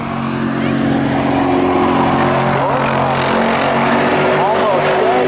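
Camaros drag race side by side at Seekonk Speedway, their engines roaring loudly and steadily with rising revs as they accelerate, while a commentator talks over the track noise.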